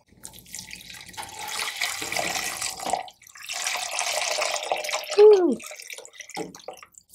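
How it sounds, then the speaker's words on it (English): Stock pours into a cooking pot for a stew in a steady splashing stream for about three seconds, pauses, then runs again, ending with a brief bubbling gurgle. "Time to pour in the stock."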